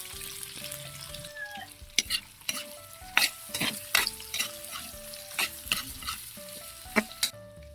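Onion, garlic, shrimp and meat sautéing in hot oil in a pan, a steady sizzle punctuated by repeated scraping stirs and sharp utensil clinks against the pan.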